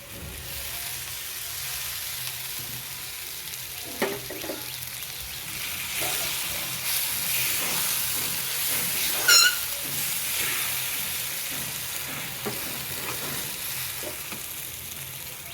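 Ground spice paste hits a hot pan and sizzles steadily and loudly, with intermittent scraping and stirring clatter running through the whole stretch.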